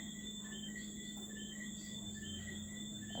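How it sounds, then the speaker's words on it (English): Tree frogs and crickets call at night in a steady, faint chorus of continuous high-pitched trills and chirps layered together, with no voices. "Some are probably crickets as well, but mostly tree frogs."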